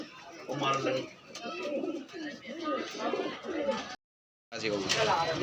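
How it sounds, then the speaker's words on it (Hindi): Punjabi pigeons coo repeatedly in soft, rolling calls, several birds close by, with someone talking over them and a brief break in the sound. "ये भी पंजाबी कबूतर है भाई"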